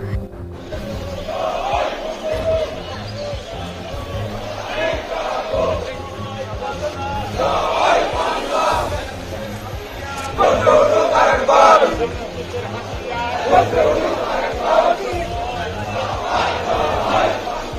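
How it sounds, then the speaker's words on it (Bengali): An Awami League protest march crowd in South Surma, Sylhet, chants loudly and continuously, with surges of massed voices rising and falling throughout. "সিলেটের দক্ষিণ সুরমা এলাকায় অবস্থান নিয়ে মিছিল পেশ করছেন আওয়ামী লীগ নেতারা"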